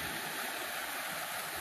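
Water flowing out of a rural spring, a steady close hiss and rush of running water with no talking.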